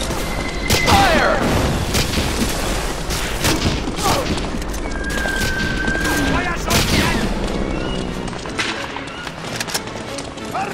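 Loud, dense battle noise in Medal of Honor: Allied Assault, in the Battle of Kasserine Pass mission: rapid gunfire volleys and booming explosions throughout, with shouted game voices mixed in.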